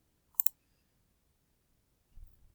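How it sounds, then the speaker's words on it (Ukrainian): A computer keyboard is used while entering a number into a Python program, with a quick double click of keys and then Enter pressed, followed by a soft low thump, isolated in a quiet room. "ведемо число 5, натискаємо Enter"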